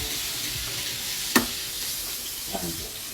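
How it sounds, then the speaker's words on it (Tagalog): Flour and oil roux being stirred in a hot pan: a steady bright sizzle with a spoon scraping through it, one sharp knock against the pan partway through and a softer scrape later, no voices. "hahalu-haluin mo lang to hanggang maluto yung flour"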